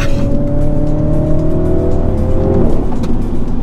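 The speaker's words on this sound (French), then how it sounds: "Il y a les pop de l'échappement, on entend tout le temps, dès qu'on lève le pied c'est ultra présent." A loud Mini John Cooper Works 231 hp engine holds a steady drone, then drops off as the throttle lifts, followed by a few sharp crackling exhaust pops close by.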